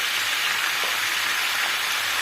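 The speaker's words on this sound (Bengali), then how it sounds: "নুন দিয়ে এবার এটাকে ভালো করে ভাজবো।" Pumpkin and spring onion, with broken chillies and salt, fry in a pan, giving a steady, close sizzling hiss that stays even throughout with no voices.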